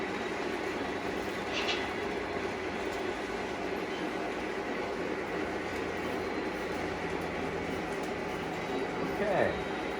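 A PRR E7 model locomotive running on its track, a steady, even whirring rumble that holds at the same level throughout, with a brief faint squeal near the end.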